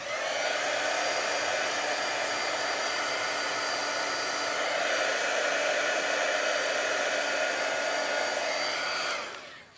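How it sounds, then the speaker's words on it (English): A Stampin' Up! heat tool, an older model, blows in a steady, loud, continuous whoosh for about nine seconds and then clicks off abruptly. "this is an older version of the Stampin' Up! Heat tool"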